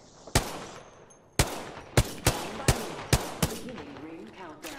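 Video game gunfire: seven sharp, separate shots at uneven intervals, fairly close, each with a short echoing decay over a quiet background.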